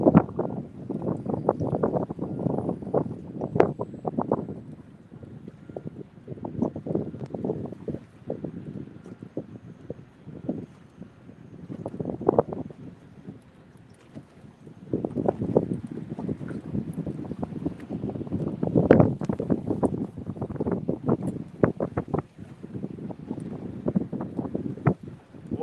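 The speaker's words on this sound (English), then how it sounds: "The wind's rolling upriver, starting to build some rollers." Wind gusting over the Ohio River beside a small fishing boat, a steady low rushing with swelling gusts and choppy water noise, buffeting the microphone throughout with no talk.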